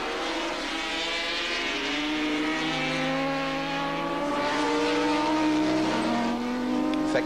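Racing motorcycles, among them a 750 Yamaha, scream past at Calder Park in 1984, a sustained loud high-pitched engine whine with gliding pitch as the bikes pass, continuous and unbroken.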